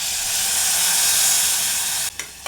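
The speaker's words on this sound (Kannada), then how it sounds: "ಹುಣಸೆ ರಸ ಹಾಕ್ತಾಯಿದ್ದೀನಿ" Tamarind juice hitting a hot pan gives a steady, close hiss and sizzle that holds loud for about two seconds, then breaks off.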